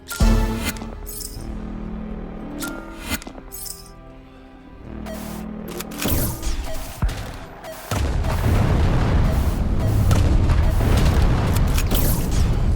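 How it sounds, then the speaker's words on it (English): Shotgun blasts and booming impacts in a sci-fi video game, mixed with metallic clinks and mechanical clatter, then a sustained loud roaring wash of explosions and firing, close and dense, without speech. "The shotgun does seem to be doing pretty good work against them"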